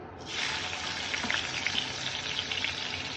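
Onion and dried red chillies sizzle in hot oil in a wok as a tempering, a steady close crackling hiss with scattered pops that begins suddenly and continues evenly.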